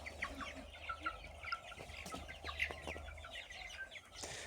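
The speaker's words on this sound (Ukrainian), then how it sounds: "Вже старі кури посідали, насідали, а ці порпаються, ба?" Chickens, including young chicks, clucking softly in a steady, overlapping chorus, with short chirps scattered throughout against a low background hum.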